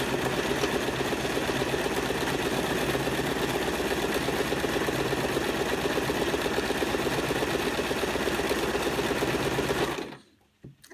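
A sewing machine stitches a dense satin stitch on a memory cushion, running continuously with a rapid, even mechanical whirr and needle chatter, close up, until it stops abruptly near the end.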